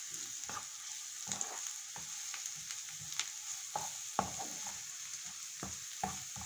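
Garlic and onion frying together in a pan for restaurant-style liver, a soft constant sizzle with scattered clicks and scrapes of stirring, close up and quiet.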